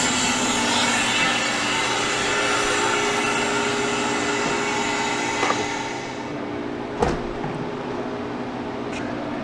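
A freeze dryer's drain valve opens with a steady, loud rushing hiss that cuts out partway through, followed by a brief sharp click and a quieter residual hum.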